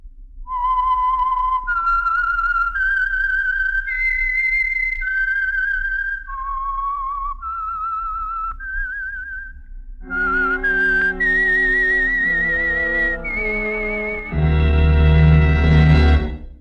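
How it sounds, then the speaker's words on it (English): A lone whistler carries the signature tune of the Signal Oil radio program The Whistler, a clear, loud melody of long held notes, followed by a fuller orchestral passage that swells near the end. "the signal to listen for is this whistle that identifies the Signal Oil program, The Whistler"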